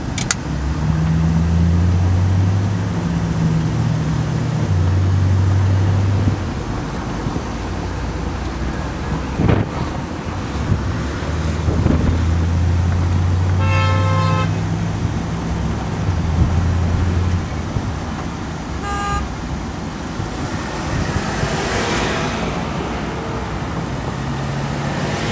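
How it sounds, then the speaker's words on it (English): Steady wind roar from driving a 1966 Chrysler 300 convertible with the top down, a broad continuous rush with low engine and road rumble underneath, a few brief knocks and tonal chirps along the way, no talking. "Outside some wind noise you'll hear from the convertible top being down"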